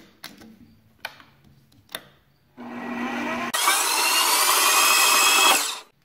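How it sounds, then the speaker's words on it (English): Cutting a hex aluminum bar down to about an inch in length, heard as a few light taps and then a loud, steady, continuous cutting whine that runs close by for about three seconds before stopping. "I'm going to cut it down to about an inch."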